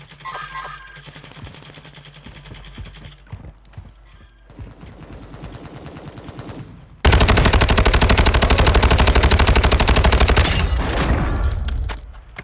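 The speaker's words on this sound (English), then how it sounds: "Nah, they shooting at somebody." Sustained automatic gunfire from the Warzone 2 video game, starting quietly with scattered shots, then erupting into a loud, dense burst of rapid fire for several seconds before cutting off.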